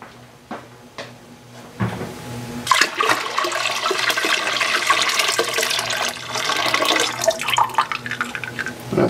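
Water gushes into a beer fermenter to top up an ordinary bitter brew, a loud splashing pour that starts after a few soft knocks and runs steadily for several seconds, close and without talk.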